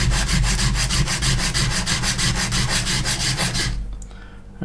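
Coarse 100 grit sandpaper rubbed over the plastic body of an MPC 1/24 scale General Lee model car: quick, steady back-and-forth scratchy strokes, close and loud, stopping abruptly near the end.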